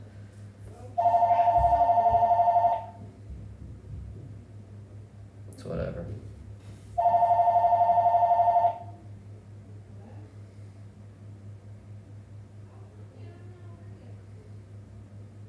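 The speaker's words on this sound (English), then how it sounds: "the phone rings" A telephone bell rings in two sustained bursts of about two seconds each, loud and close, separated by a pause with a steady low hum underneath; someone talks briefly between and after the rings.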